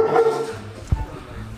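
A dog at a kennel in Tuguegarao gives a single sharp bark near the middle of the clip, with faint whimpering around it and people talking in the background.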